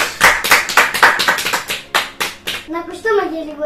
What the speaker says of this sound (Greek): Ένα χειροκρότημα για τον ρόλο.